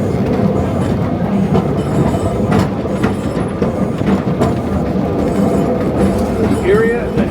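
A tram running on rails in Bendigo, recorded on board as a loud continuous rumble with clickety-clack of the wheels, a faint squeal near the end, and speech over it.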